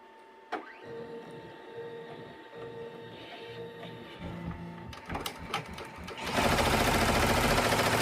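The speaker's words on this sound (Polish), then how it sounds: "Teraz maszyna robi nam taki testowy wzór, żebyśmy sobie mogli sprawdzić naciągi" A Haftex Mini embroidery machine stitching a test pattern starts up after quiet mechanical clicks and whirs, building into a loud, rapid, continuous buzzing hum of needle strokes for the last couple of seconds.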